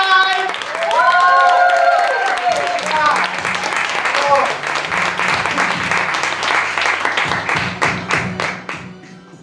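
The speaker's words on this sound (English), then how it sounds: "Keep your applause going for Eli." Audience applause and cheering at a youth poetry slam for slam poet Eli, steady dense clapping throughout with a host's voice over it at the start, tapering off near the end.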